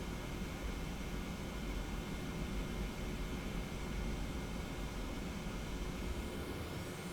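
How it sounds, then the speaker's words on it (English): Airliner engines roar steadily as the throttles advance for takeoff in the TFDi 717 flight simulator, a loud, even broadband rush with no pauses. "then we're going to advance the throttles"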